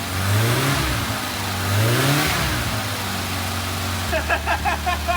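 A newly revived car engine, its ignition just repaired, rumbles close by and revs up twice in rising surges before settling into a steady idle, with excited voices breaking in near the end.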